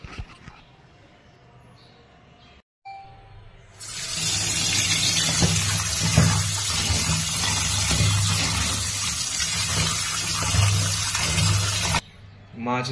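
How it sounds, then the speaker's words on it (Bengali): Ritha fish being washed under running tap water in a kitchen sink, a steady loud gush of water lasting about eight seconds with a quieter stretch before and after. "প্রথমে মাছ ধুয়ে পরিষ্কার করে নেব।"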